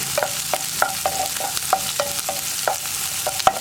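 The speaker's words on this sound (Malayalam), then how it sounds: "ഇനിയിപ്പോൾ നമ്മൾ കട്ട് ചെയ്ത് വെച്ചിരിക്കുന്ന ഉള്ളി, വെളുത്തുള്ളി, പച്ചമുളക് ഇതെല്ലാം ചേർത്ത് നന്നായിട്ടൊന്ന് വഴറ്റിയെടുക്കണം" Onion, garlic and green chilli sautéing in a pan, with a soft sizzle under regular, clear spatula scrapes and taps about every half second; no talking.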